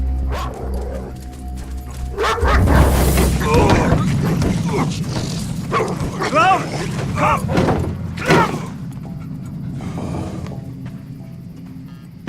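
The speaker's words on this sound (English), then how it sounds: "Call off your fucking dog" A dog barks and yips in sharp bursts amid a tense film scene, mixed with mechanical creaks and clatter, while people speak between the barks.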